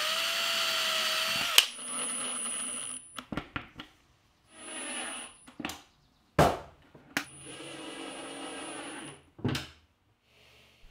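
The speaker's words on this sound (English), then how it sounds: "It's a self-centering drill bit, and I'll use this to pre-drill holes for the screws." A power drill with a self-centering VIX bit pre-drills screw holes in a cabinet, sounding as several short whining bursts separated by pauses and clicks, close and moderately loud.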